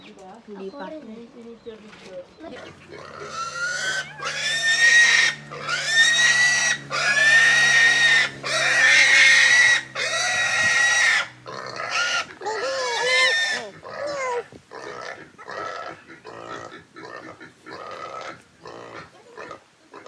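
A pig squeals loudly and repeatedly before slaughter at a village gathering in Ilocos. Long shrill cries and grunts come in near bursts for most of the clip, with voices talking around them.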